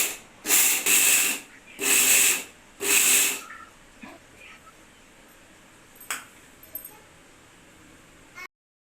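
A kitchen mixer grinder crushes peanuts in three short, loud on-off pulses with pauses between. A few faint clinks and light rattles follow in the quiet afterward.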